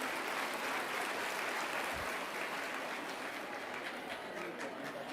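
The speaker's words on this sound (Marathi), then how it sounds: "टाळ्या वाजवायच्या तर जोरात वाजवा" A crowd applauds at a political rally, a steady, even wash of clapping that sounds somewhat distant and muted and holds throughout without a clear peak.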